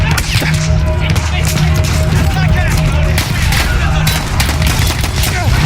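Loud, continuous battlefield gunfire in the video game Battlefield 1, with sharp cracking shots and rattling bursts over a heavy rumbling bed of combat noise that never lets up.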